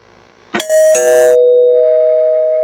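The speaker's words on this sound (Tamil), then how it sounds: "யாரோ காலிங் பெல் அடிக்கிறாங்க என்னோட ஹார்ட்ல" A doorbell rings once, a bright two-tone chime that rings out and sustains, loud and close, with no one talking.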